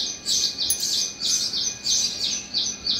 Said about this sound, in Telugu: ఊర పిచ్చుకలు చాలా ఉన్నాయి.